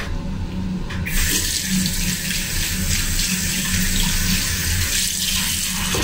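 Tap water runs steadily into a sink while a homemade face mask is washed off, a loud continuous splashing hiss that starts abruptly and stays even throughout, with no talking.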